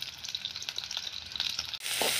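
Sundakkai (turkey berry) sautéing in oil in a pan: a continuous light crackle and hiss with small popping bursts, turning louder and broader near the end, with no talking.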